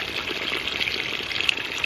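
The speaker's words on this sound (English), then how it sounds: "it's going to be gurgling as it pulls more water through" A ram pump gurgles steadily as it starts up, drawing water through and pushing air bubbles out, a continuous watery hiss and bubbling close by with brief brighter splashes and no talk.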